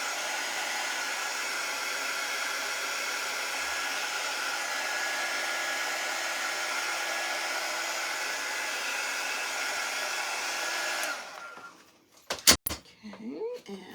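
Hair dryer drying a coat of Colonial Blue and Shimmer Frost paint, a steady loud whirring blast for about eleven seconds, then switched off with clicks and handling knocks.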